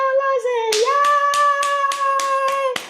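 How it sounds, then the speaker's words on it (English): A handful of people clapping in rhythm, about nine sharp, evenly spaced claps close by, sounding over a sustained sung or cheering voice. "We're all clapping."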